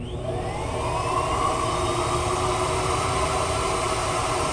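Miele Jazz S7280 vacuum cleaner running with suction drawn through the hose on its curtains setting: a steady, close, unbroken motor drone and airy whoosh at constant loudness throughout.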